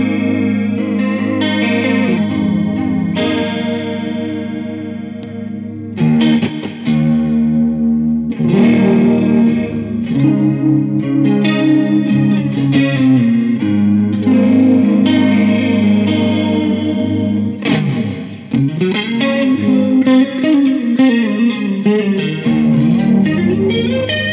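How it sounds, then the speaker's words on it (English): Electric guitar played through a cheap chorus pedal with every control maxed, giving a deep, wobbling, slightly gritty shimmer; loud, close chords and short phrases ring out continuously with brief gaps, no talking. "How deep and vibrant do you want that chorus to sound?"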